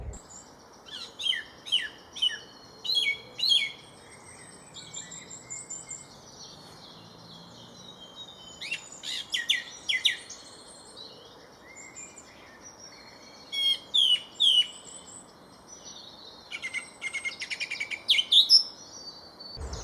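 Small bird singing from tall alder trees beside a stream in winter: repeated short bursts of high, thin chirps and trills separated by pauses, moderately distant over a quiet, faintly hissing outdoor background.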